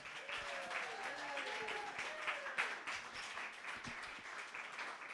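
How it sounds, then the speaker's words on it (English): Scattered audience applause for a tech crew at an evening creativity show, faint and distant clapping beneath a tonal whistle or feedback-like sound. "round of applause for all your tech support, guys"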